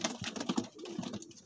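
Pigeons at a pigeon seller's place in Amritsar coo close by in a run of soft, throaty, overlapping calls, with no voices.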